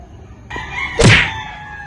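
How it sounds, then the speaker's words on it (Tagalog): A rooster crows once, loud and close, a rising then drawn-out call against a quiet background with a soft thump just before it. "Ang daming manok dito sa amin mga kapromdi."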